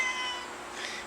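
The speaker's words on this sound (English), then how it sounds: "There's our little cat." A small pet cat lets out a single drawn-out meow, fairly quiet and close, with no other sounds around it.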